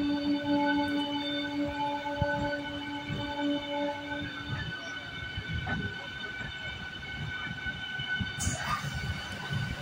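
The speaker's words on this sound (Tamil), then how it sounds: "இப்போ நம்ம ட்ரெயின் வளைஞ்சு போயிட்டு இருக்கலாம்." A new train rounds a curve on the line from Bangalore toward Hosur, its sustained horn tones ringing clearly at first and then fading. Rumbling wheels roll continuously underneath, with a bright screech near the end.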